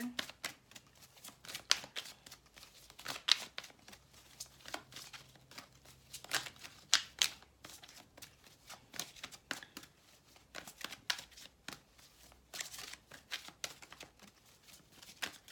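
Tarot angel cards being shuffled and drawn, soft irregular riffling and flicking bursts of paper cards close by, with quiet pauses between handfuls.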